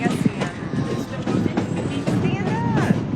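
Rumbling noise inside a moving train with rattles, squeals and rhythmic clatter, a voice briefly audible over the steady ride.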